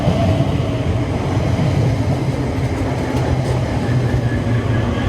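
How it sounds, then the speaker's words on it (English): An Elizabeth line train in London arrives at a terminating platform at high speed, rumbling steadily with a dense low roar and faint rail noise, sustained and fairly loud throughout, no voices. "There's trains coming into the platform at pretty high speed."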